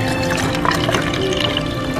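Coffee mixed with creamer is poured into an ice cube tray, a steady close liquid stream and trickle running for a couple of seconds.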